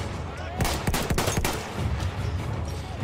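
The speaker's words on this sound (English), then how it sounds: "Can you guys not fire, like, bullets?" Battlefield gunfire crackles in rapid bursts of overlapping shots over a dense wash of battle noise and rumble. The firing is loudest early on and continues throughout.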